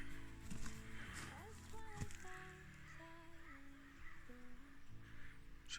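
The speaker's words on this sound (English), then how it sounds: "Sounds like the crows are overeating the horse feed this morning." Several crows caw in short, harsh calls against a low background rumble, with scattered rustling and movement nearby as they feed on horse feed in the morning.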